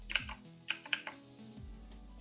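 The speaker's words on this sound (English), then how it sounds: "I just realized how loud my keyboard is." A loud computer keyboard clacks in a handful of sharp, separate keystrokes spread across two seconds, fairly quiet and close, with no talking.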